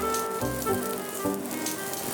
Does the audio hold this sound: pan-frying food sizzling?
yes